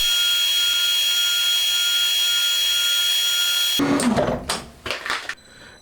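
A steady, high-pitched machine whine runs continuously, then cuts to a few harsh scraping bursts of metal being cut and rubbed, machining away excess metal from a main shaft for a 125cc four-cylinder engine.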